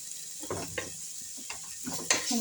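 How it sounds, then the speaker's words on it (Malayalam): Tomatoes being stirred in a frying pan for macaroni masala, cooked down toward a paste: intermittent scraping strokes over a soft sizzle, close and moderately quiet, with no voices. "തക്കാളി നല്ല ചെറിയൊരു പേസ്റ്റ് പോലെ വഴണം. അതുവരെ നമ്മൾ തുടർച്ചയായി ഇളക്കി കൊടുക്കുക"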